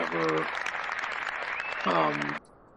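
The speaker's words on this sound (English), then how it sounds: "everyone starts clapping" Lively clapping from a group runs steadily for over two seconds and then cuts off sharply, with a voice speaking over the start and again near the end.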